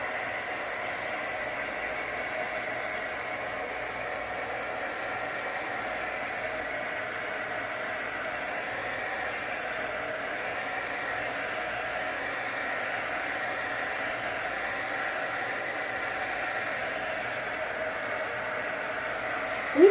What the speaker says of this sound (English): Try to make sure your heat gun is hot.